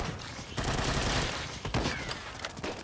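Gunfire in the video game Unkilled, with rapid bursts of shots blending into a dense, continuous barrage at moderate loudness that persists through the whole short stretch.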